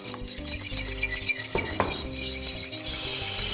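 A fork beats eggs in a bowl with quick, steady metallic clicking and scraping, close up and continuous, with no talk.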